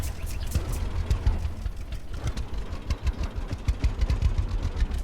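Tractor engine idling in the video game Farmer's Dynasty, a steady low chugging rumble with rapid rhythmic knocking pulses, close and continuous.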